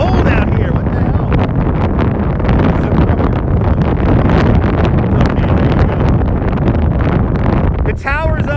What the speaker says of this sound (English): It is very windy out here, man.